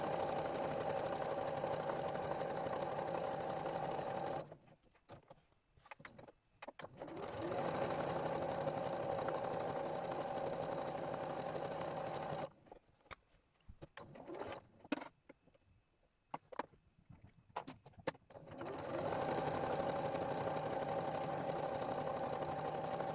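A sewing machine straight-stitches gelli-printed fabric in long steady runs, a close mechanical whirring that stops twice for pauses filled with small clicks and handling noises before starting again.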